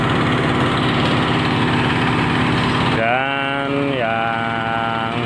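Yamaha RX series motorcycle engine with standard spec and semi porting, running on test: a loud, close, steady buzzing idle that then revs up and down in pitch twice.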